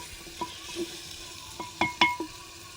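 Onions fry in a wok, with a soft sizzle under a few distinct metallic scrapes and clinks of stirring that cluster toward the end.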